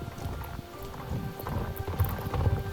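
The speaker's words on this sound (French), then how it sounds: "Ah, c'est des chevaux magiques." Hooves of escaped magic horses clop steadily in a video game, a rhythmic run of clip-clops under sustained game music tones.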